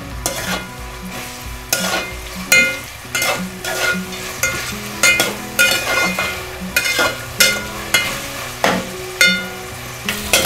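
Tomato and onion sauté with salt in a pan for veg pulao, a loud, close sizzle punctuated by rhythmic spatula scrapes and stirs roughly every second, with no voices.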